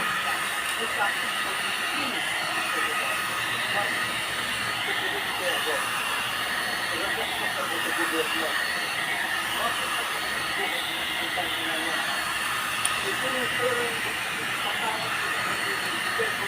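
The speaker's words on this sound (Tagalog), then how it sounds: "ako ay mag-blower ng aking buhok" A steady hair dryer roars with a constant airy hiss throughout, close and loud, with faint talking beneath it.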